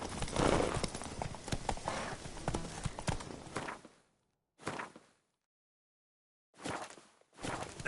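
Hooves of Roach, Geralt's horse in the video game The Witcher 3, clip-clopping in a dense, steady walk for about four seconds, then stopping, with a few short bursts of hoof and movement sounds after long silent gaps.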